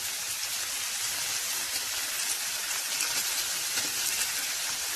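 Garlic and onions sizzle in a pan alongside fish, giving a steady, dense frying hiss that stays loud and even throughout, with no voices.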